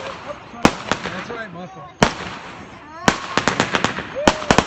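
Firecrackers and fireworks go off nearby in the South in sharp, loud bangs, single and in rapid clusters, while people talk over them.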